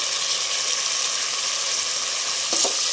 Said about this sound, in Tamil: பாருங்க, வெங்காயம் நல்லா வதங்கிட்டுருக்கு.